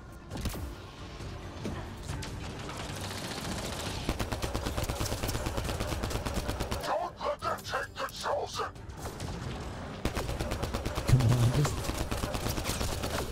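Gunfire in the video game Mass Effect: Andromeda, dense rapid bursts mixed with loud combat effects throughout, including a distinct rattling volley partway through.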